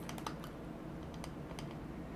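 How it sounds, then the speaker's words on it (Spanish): Light taps land on a CIRCE X26 TWS wireless earbud as it is double-clicked. A few faint, crisp clicks come in quick pairs over a quiet background hiss. "vamos a darle doble clic"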